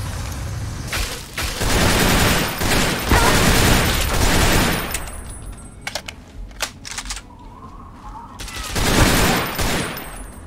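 Gunfire in the video game Fallout 3 crackles in dense broadband bursts, a heavy sustained fusillade for several seconds, then scattered sharp single shots, and another loud volley near the end.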